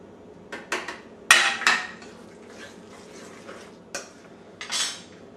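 Gnocchi verdi dough being mixed in a bowl with Parmesan cheese, giving a series of sharp utensil clinks and scrapes against the bowl in irregular bursts, close and clear with no talking.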